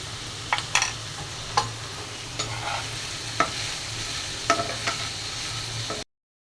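Okra and green chilies stir-fry in hot oil with a steady soft sizzle. Sharp scrapes and clinks from stirring break in at irregular intervals before the sound stops abruptly.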